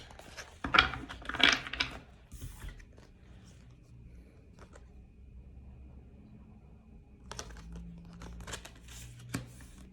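Shuffling a deck of tarot cards by hand, loud crisp riffling bursts at the start followed by quieter, scattered card slides and taps, close to the microphone.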